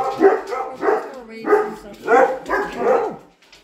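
Several puppies bark and yip in a run of short bursts, fairly close and loud, with no talk over them.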